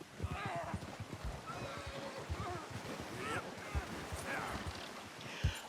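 In a video game, a horse whinnies several times and its hooves clop along, over a steady wash of wind-like ambience with a voice talking throughout.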